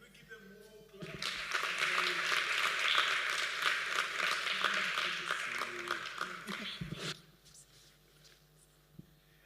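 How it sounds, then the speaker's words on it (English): Audience clapping at a youth conference, a steady wash of applause from a large room lasting several seconds before fading, with a speaker talking faintly at the start and again after it dies down. "Can we give them more clap?"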